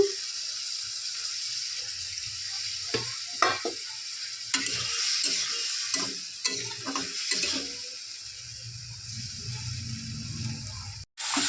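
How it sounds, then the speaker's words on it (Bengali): Chicken pieces coated in ginger-garlic paste and spices are stirred and scraped in a pan, with a steady sizzle and splashy stirring after a little water is added, loud and close. "ভালো করে এটা কষিয়ে নেবো আর একটু জল দেবো কষানোর জন্য"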